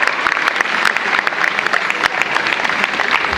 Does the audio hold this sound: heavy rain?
no